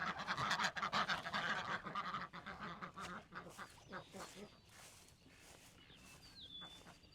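A flock of ducks quacks in a dense, overlapping chorus, loud and close at first and then thinning out, with a few higher calls near the end.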